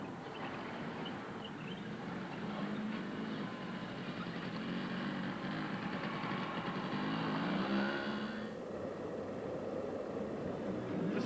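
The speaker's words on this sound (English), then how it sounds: "It really wouldn't be the Dakar Series without the big trucks." Big rally trucks at the Dakar Series Central Europe 2008 race in Hungary, their engines giving a steady, fairly distant droning roar that swells slightly before fading back.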